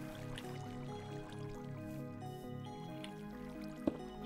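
Water flows in Minecraft as a soft, faint continuous trickling and dripping loop with one brief sharp click near the end.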